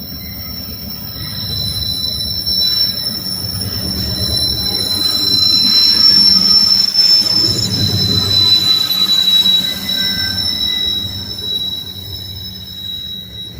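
A southbound freight train with a DPU passes at the north end of Abbeville, its wheels letting out loud, sustained high squeals over a continuous low rumble of rolling cars that builds and then eases.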